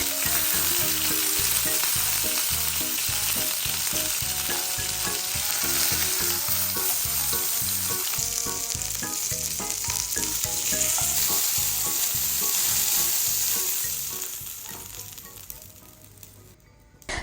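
Chicken pieces fry in oil in a pan, a dense, steady crackling sizzle running close and loud for most of the stretch with scattered clinks, then easing off as the pan quiets toward the end.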